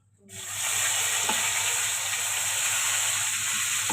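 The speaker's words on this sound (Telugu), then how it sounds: "ఆనియన్స్ కూడా మంచిగా ఫ్రై అయినాయి" Onions frying with mint in hot oil for a tempering, a steady close sizzle and hiss that surges in and then holds evenly, with a soft tap or two.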